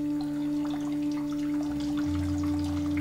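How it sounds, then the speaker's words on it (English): Trickling water as a character urinates into a toilet in the horror video game Friday Night Frights, a steady dribble over a constant low hum, with a deeper drone entering partway through. "Did I really just sit down and take a piss?"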